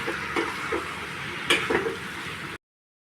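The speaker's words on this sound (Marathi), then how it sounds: "शिमला मिरची छान आता मसाल्यात परतून घेते।" Capsicum being sautéed in spice masala in a pan, a close soft sizzle with spatula scrapes and a clink, ending abruptly in silence.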